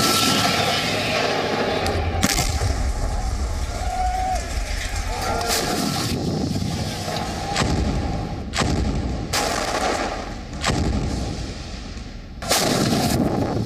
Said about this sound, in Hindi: टैंक से फायरिंग